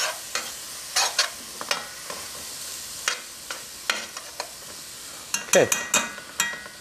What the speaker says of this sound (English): We'll stir this around